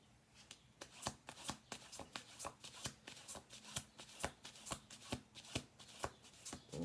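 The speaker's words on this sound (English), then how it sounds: "we're going to do another shuffle" Repeated crisp riffle-shuffling of a tarot deck, about twenty sharp snaps in a steady rhythm, close and clear with no talking.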